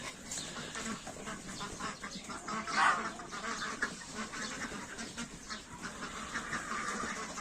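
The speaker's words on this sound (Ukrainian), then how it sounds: "Гуси, кури і качки." A flock of geese, chickens and ducks chatters continuously outdoors, with overlapping quacks and honks, one louder honk standing out midway.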